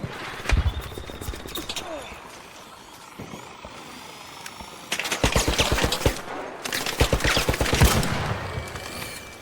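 Automatic gunfire from the video game Arc Raiders rattles out in several rapid bursts, loud and close, with quieter gaps between them over a low in-game background.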